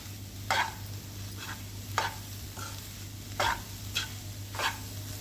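Soya palak bhurji frying in a pan over a steady low hum, broken by five or six scraping stirs of a spatula at irregular intervals, close and moderately loud, with no talking.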